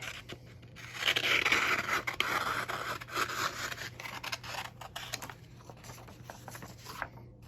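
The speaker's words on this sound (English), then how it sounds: "So we're going to go ahead and just cut these out." Scissors cut out printed paper shapes with close, crisp snipping and a sustained papery rasp, followed by shorter separate snips and rustling near the end, with no talk.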